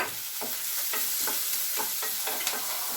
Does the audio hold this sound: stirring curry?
yes